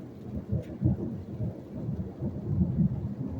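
Low thunder rumbles steadily through a thunderstorm, a deep rolling grumble that swells and fades at a moderate distance without any voices.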